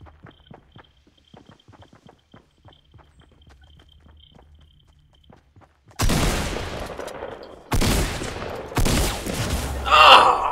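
Gunfire in Fortnite, a few quiet clicks and soft steps giving way to several loud, dense bursts of shots in quick succession near the end.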